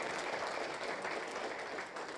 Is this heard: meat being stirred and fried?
no